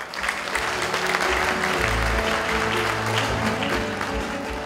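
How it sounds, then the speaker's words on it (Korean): Audience applause greeting the opening remarks at the first World Character Forum ceremony in Yeongju, a steady dense roll of many hands clapping in a hall, sustained and even throughout with no one speaking. "따뜻한 박수로 맞아주시기 바랍니다."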